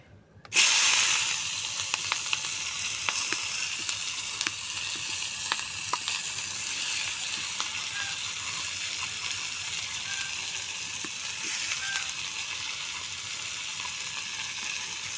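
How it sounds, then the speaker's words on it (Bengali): Chopped onions frying in oil, a steady close sizzle and hiss that runs through the whole clip after a sharp start, with faint clinks now and then and no talk. "পেঁয়াজগুলি ভালো করে ভেজে নেব, বাদামি কালার করে।"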